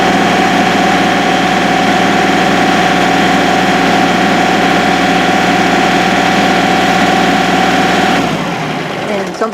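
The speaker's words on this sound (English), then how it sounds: "the engine should shut off after about a second. If it doesn't, something's wrong." A Kubota L3301 HST compact tractor engine idles steadily and loudly with a constant drone for about eight seconds, then cuts off near the end.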